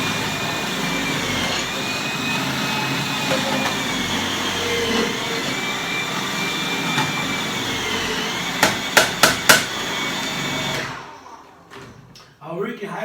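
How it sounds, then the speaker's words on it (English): An electric food processor chops cabbage pieces with a loud, steady motor whir and rattling blade noise for about eleven seconds, a few quick clacks near the end, then stops into near silence. "I really highly recommend these kind of tools, the food processors."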